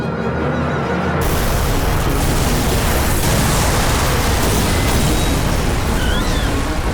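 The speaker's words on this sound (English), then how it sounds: "Just a little explosion." An explosion in the animated series The Legend of Korra erupts with a sudden loud boom, then a sustained roaring, crackling blast of noise that fills the rest of the scene.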